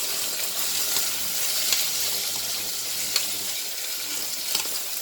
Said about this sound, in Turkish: salçamızı kavurduktan sonra haşladığımız yeşil mercimeğimizi içine ilave ediyoruz